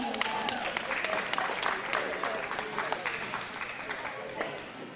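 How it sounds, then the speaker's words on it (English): An audience at a county livestock show applauds with a dense, steady wash of clapping from a crowd that gradually eases off, with voices mixed in. "Please give him a round of applause."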